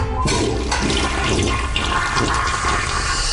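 A toilet flushes loudly and close up, a continuous rushing gush of water that fills the whole stretch without pause, with no voices over it.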